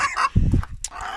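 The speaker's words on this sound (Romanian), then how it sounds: "Mă nervez că tot cârie atât." Bantam hen cackling in a backyard coop alongside a small rooster, a loud burst of clucks up close, rising and falling in short rhythmic bursts.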